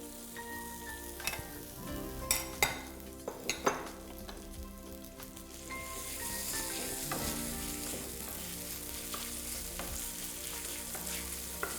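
Meat sizzles steadily in a frying pan while a Rolex is being made. Several sharp clinks of a utensil against the pan sound near the start, then the frying grows into a fuller, continuous hiss, with no one talking.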